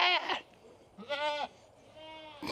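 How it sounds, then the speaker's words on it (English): Goats bleat in three separate calls, the first two loud and wavering, the third longer and softer, with a short cry starting at the very end; the animals are close by and no one speaks. "Goofy noises from goats."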